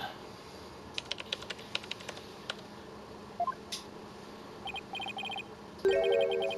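Rapid bursts of computer keyboard typing from the Ace Attorney: Spirit of Justice game, with short clicky clusters at the start, a few beeps later, and a brighter chime-like tone near the end.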